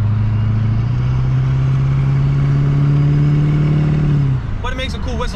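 Pontiac Grand Prix GTP engine with a steady tonal whistle over the engine hum, rising slightly as it runs, then dropping away as a voice begins talking near the end.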